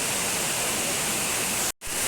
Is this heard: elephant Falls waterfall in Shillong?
yes